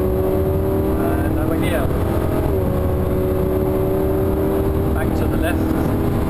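A Lamborghini Huracan on the Thruxton circuit, its engine droning loudly and steadily as it pulls through a gear, heard from inside the car while a person speaks over it.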